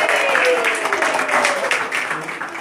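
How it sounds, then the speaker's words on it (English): Audience applause for a birthday girl at a children's birthday party, a dense steady wash of clapping from many hands sustained across the whole stretch, fairly loud with a lively room ambience and crowd murmur underneath. "Let's give Josephine a big round of applause."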